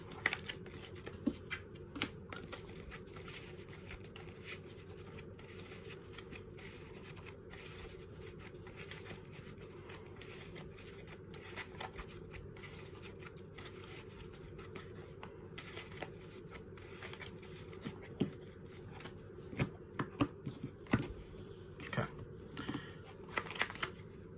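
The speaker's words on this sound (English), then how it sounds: "I'm just going to shuffle up." A deck of Yu-Gi-Oh cards is shuffled repeatedly, with quick riffling bursts and soft card clicks close by, quiet and rhythmic with no talking.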